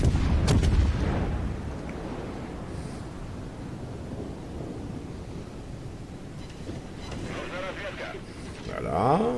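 Naval cannon fire in the World of Warships game: a deep boom at the start, then distant rumbling and wind-like roar with further faint shots, while someone talks.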